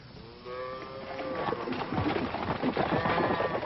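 Cattle moo repeatedly at close range on a Western ranch, several drawn-out lowing calls overlapping amid a busy herd, with faint hoof and movement noise filling the background.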